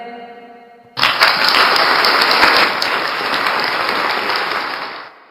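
Loud burst of applause breaks in after a moment of soft tonal music, filling the rest as a dense, steady wash of clapping that eases slightly before cutting off, welcoming viewers at the start of a Thursday fast-story devotional program.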